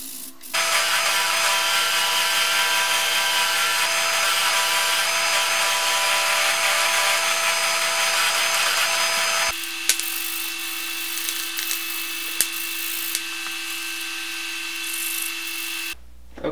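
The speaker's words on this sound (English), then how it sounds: "now all I have to do is sand the blade. So I'm gonna start with 100 grit sandpaper" Hand sanding a large Bowie knife blade with 100 grit sandpaper gives a loud, continuous abrasive rasp. About halfway through it shifts to a thinner, steadier scraping tone with a few sharp ticks.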